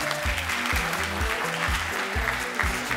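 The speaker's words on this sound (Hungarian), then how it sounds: "Csilla, egy hatalmas taps neked" Audience applause at a birthday event for a decoration and design business, continuous clapping over a steady pulsing musical beat, fairly loud throughout.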